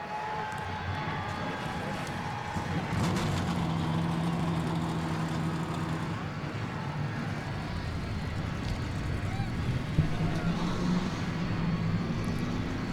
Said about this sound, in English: The 42 cars fire up and rolling for 13 laps here at Road America.